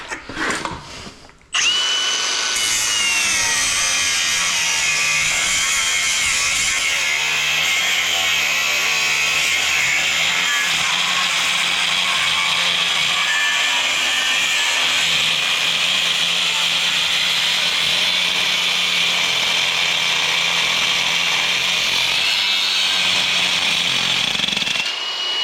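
An angle grinder scores the edge of a 30HP electric motor in a steady, loud, high-pitched whine with a harsh metallic grinding edge. It runs continuously for over twenty seconds after starting up abruptly.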